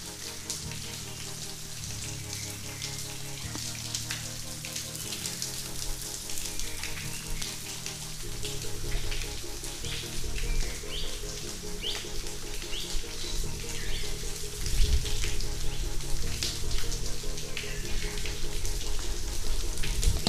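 Water trickles and patters from rocks at Manchukonda, a steady close splashing drip with clattering underneath, growing slightly louder toward the end.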